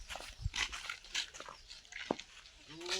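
A dog gives a brief whining yelp near the end of the clip, close by, amid faint background voices and household noise.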